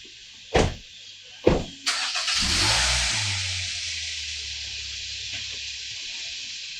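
A car on a drive through Martin County, Florida, toward Jensen Beach: a few sharp knocks, then an engine surges and rushes past, fading into a steady low road hum, with no voices.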